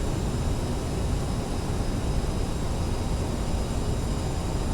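Steady broadband roar of an airliner's cabin during a night landing in rain at Frankfurt, a constant loud rush without breaks or voices throughout.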